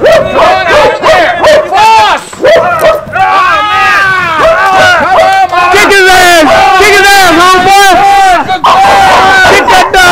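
A police K9 dog barks loudly and nonstop at close range, harsh repeated barks and yips packed together, while people shout over it during a break-in stop.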